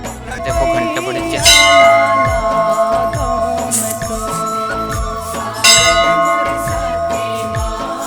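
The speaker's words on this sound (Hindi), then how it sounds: "देखो घंटा बड़े" A large temple bell clangs at Khallari Mata temple in Mahasamund, its loud metallic strikes ringing out with long sustained overtones, two prominent hits standing out amid steady background noise and other ringing.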